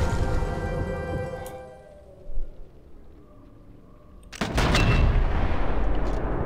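Sniper rifle fire in Sniper Elite 4: a loud opening blast that rings off, a small thump, then a second heavy shot with a long, booming tail, no voices.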